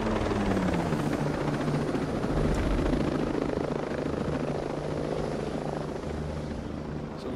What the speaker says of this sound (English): Helicopter coming in.